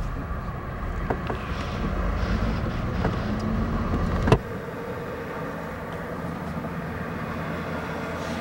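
A vintage Ford Fairlane drives slowly with a steady low engine and road rumble, followed by a sharp click before the noise drops to a quieter hum.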